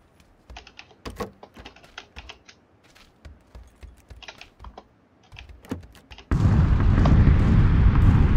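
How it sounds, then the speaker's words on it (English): Bombs exploding close by in PUBG: soft computer-keyboard typing clicks run for several seconds, then a sudden loud, sustained roaring blast swamps everything and holds to the end. "Bombs are hitting close by"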